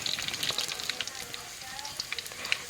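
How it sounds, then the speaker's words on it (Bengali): Crushed garlic cloves and bay leaves frying in hot oil for an olive pickle give a soft, crackling sizzle with scattered pops as they are stirred, fairly quiet and close. "এবার সব কিছু একসাথে নেড়ে চেড়ে দিচ্ছি।"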